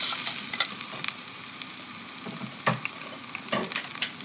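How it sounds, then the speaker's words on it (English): Fennel seeds, star anise and kalpasi sizzling in hot oil, a steady close hiss and crackle with occasional stirring clicks, no voices. "When the oil is hot, add sombu, fennel seeds, and some star anise and kalpasi."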